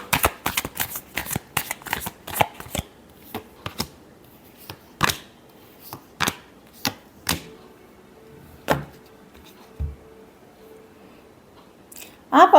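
Tarot cards shuffled close by: a fast run of crisp riffling snaps and clicks, then sparser single taps and flicks with quiet gaps between them.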